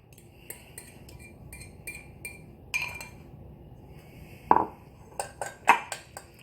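A fork stirring banana muffin batter of mashed banana, sugar, oil and egg in a bowl, with sparse metallic clinks and scrapes against the bowl. They start light, then a few sharper taps come close together near the end; no talking.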